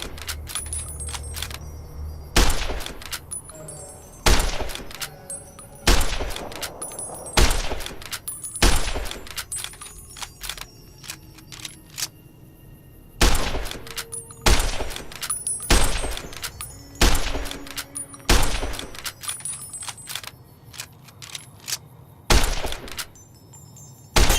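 Sharp gunshots crack out one after another in Fallout: New Vegas, fired at sarsaparilla bottles. They come in a steady, spaced rhythm, loud and close, with short ringing gaps between them and no talk over them.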